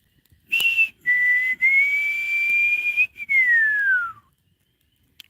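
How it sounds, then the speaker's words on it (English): A person whistling outdoors at night by a campfire in the woods, a few clear sustained notes in separate phrases, the last one gliding downward and fading into quiet. "I don't know why I can't whistle anymore"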